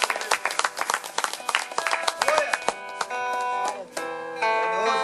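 A congregation at an open-air evangelical service claps together in quick, dense bursts for a few seconds, then the clapping gives way to sustained music or tones.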